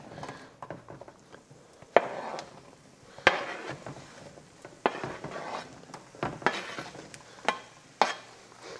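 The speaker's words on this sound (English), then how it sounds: "so we got a bit of a sizzle going here, so we can put all of these in." Pieces of eggplant sizzling in hot oil with occasional sharp clinks and stirring of a pan, close and moderately loud.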